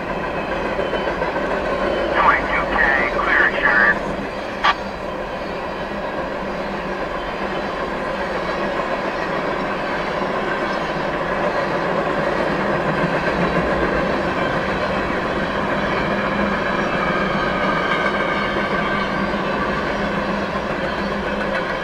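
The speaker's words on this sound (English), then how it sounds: "There's the end of CSX Q368." CSX freight train Q368 rolls past at close range, a steady loud rumble of rail cars with clickety-clack and a brief squeal or clank early on, continuing unbroken to the end of the train.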